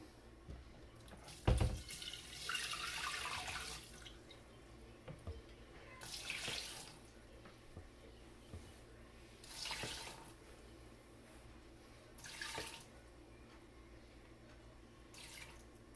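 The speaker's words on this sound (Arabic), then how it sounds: "وغادي نديرو نكبو عليه من الفوق 800 غرام تاع الماء" About 800 grams of water poured into the bowl of a Mr Cuisine Connect kitchen machine, with several separate splashing pours spread over the stretch, each a short run of rushing water, moderately close against a quiet room.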